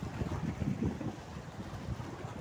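Gusty wind on an island at Telma buffets the microphone in a steady low rumble, with no voices, the roar swelling and easing in uneven pulses.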